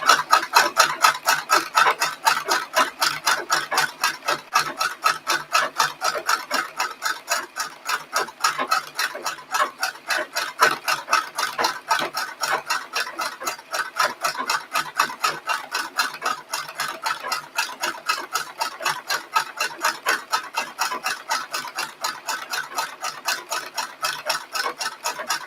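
Sewing machine doing top stitching on clothing, a fast, steady stream of tightly spaced mechanical ticks running evenly for the whole stretch, close and moderately loud.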